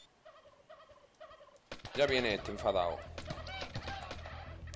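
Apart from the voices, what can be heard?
turkeys gobbling in the video game How to Survive 2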